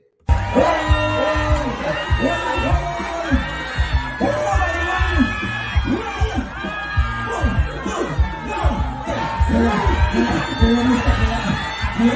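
A large crowd at an anniversary event in Stabrook Market Square with the mayor present: loud, continuous crowd noise with many overlapping voices and cheering, mixed with sustained tonal sounds throughout.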